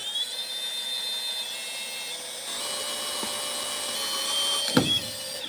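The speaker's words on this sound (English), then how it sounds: "Sorry about the drill noise." A power drill bores into a metal Hot Wheels toy truck, giving a steady high-pitched whine that continues throughout, with a brief sharp knock near the end.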